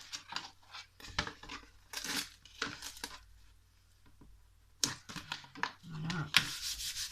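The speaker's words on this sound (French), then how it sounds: "on se présente sur la structure, on relève et on vient y mettre notre scotch" Adhesive tape is pulled and pressed onto the frame of a handmade small suitcase, giving quiet bursts of tearing and rubbing with brief pauses between strips and soft handling noises, close and faint.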